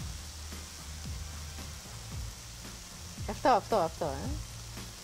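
Food sizzles on a grill with a steady low crackle and hiss, heard fairly close, while someone talks over it in short bursts.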